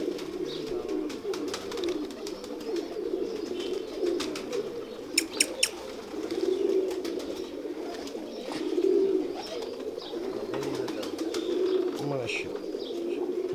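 Kamal pigeons coo in steady low throaty rolls, close and continuous, with a few brief wing flaps and claps partway through. Faint chatter sits in the background.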